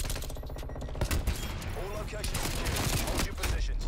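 Rapid automatic gunfire bursts and overlapping shots fill a Black Ops Cold War multiplayer match, dense and loud throughout, with a player's voice talking over the shooting.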